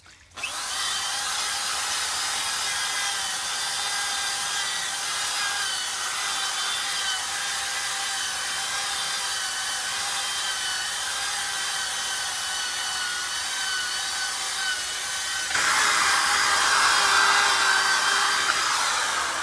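A power drill spinning a scrub brush with The Pink Stuff cleaner whirs steadily at close range, its high whine holding for a long stretch before the pitch shifts and grows slightly louder.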